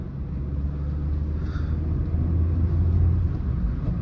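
A Suzuki Fronx 1.2 car engine hums at a steady low pitch while driving, heard from inside the cabin as a continuous rumble alongside road noise, with no talking.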